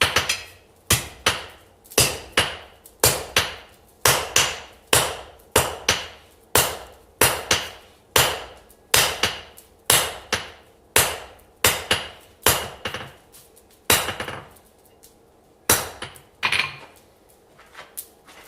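A hammer strikes hot metal on an anvil while forging a bevel, ringing blows falling in a steady close rhythm, sometimes in quick pairs, with a short pause near the end.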